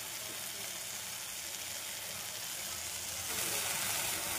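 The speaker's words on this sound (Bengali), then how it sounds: "খুব ভালো করে এটাকে ভাজতে হবে।" Chili powder, coriander powder and salt frying in a pan over low heat for baingan bharta, giving a soft, steady, even sizzle close by, slightly louder near the end.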